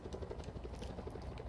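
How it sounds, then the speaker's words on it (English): A helicopter in the Call of Duty Black Ops 4 Blackout video game gives a steady, fairly quiet rotor chop with a whirring drone throughout, with no talk. "Someone's in a helicopter."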